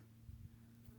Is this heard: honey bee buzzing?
yes